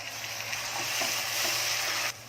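Tomato and chili pieces hitting onions frying in a pan, a loud, close, broadband sizzle that holds for about two seconds and then drops sharply in level.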